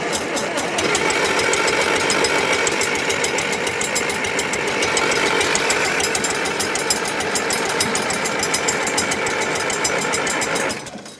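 A John Deere 3020 diesel tractor engine, left sitting for over ten years, cranks and turns over loudly in a fast, steady mechanical chugging rhythm for about ten seconds before it cuts off.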